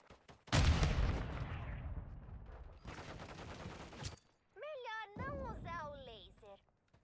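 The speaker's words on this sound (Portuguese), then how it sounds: "Granada!" Grenade explosion and gunfire in Call of Duty Modern Warfare III, a loud near blast followed by rattling bursts of shots, with shouted voices over the combat.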